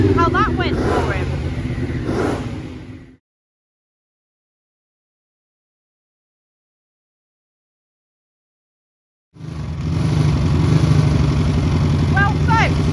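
A Ducati racing motorcycle at Donington Park runs loudly and close, its engine note cut off by a long silent gap before roaring back; a voice talks over the engine.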